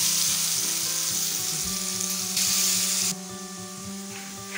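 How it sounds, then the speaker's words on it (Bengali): Potato pieces dropped one by one into hot oil, frying with a loud, dense sizzle that holds steady and then eases slightly near the end, close up with no voices. "আলুগুলো একটু ভেজে নেব, এক এক করে দিয়ে দিচ্ছি।"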